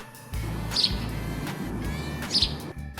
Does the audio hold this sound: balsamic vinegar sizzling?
no